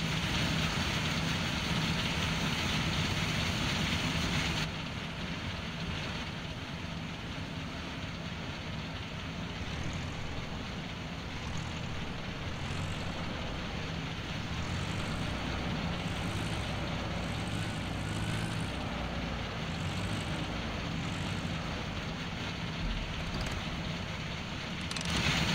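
A tractor engine in a Landwirtschafts-Simulator 17 farming game drones steadily for the whole stretch, a low continuous rumble at moderate level, shifting slightly early on as it drives, with no talking over it.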